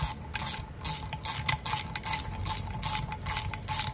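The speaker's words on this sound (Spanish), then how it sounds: "ahora sí van a apretar, claro, con la matraca que apriete" Ratchet wrench tightening bolts on an opened Superlight motorcycle engine, a fast continuous clicking of the pawl running steadily and close up without pause, with no talking.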